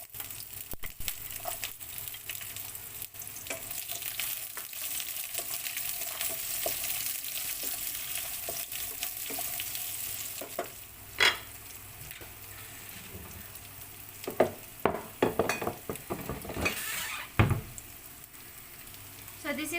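Onion sautéing in a pan with whole cloves, cardamom, cinnamon stick and star anise, a steady close sizzle with occasional stirring clatter and sharper pops toward the end, no voices.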